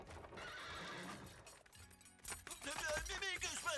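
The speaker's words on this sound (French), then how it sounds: "Arrêtez les chevaux!" Horse whinnies ring out over busy background noise in an animated film, with clopping hooves and a louder, harsher whinny near the end.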